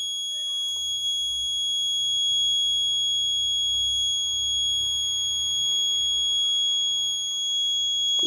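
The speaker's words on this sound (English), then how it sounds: "alarm on, red LED is on." An IoT food spoilage detector built on an ESP8266 and Arduino sounds its alarm buzzer, a steady, shrill electronic tone that holds continuously at moderate loudness over a faint low hum, with no talking.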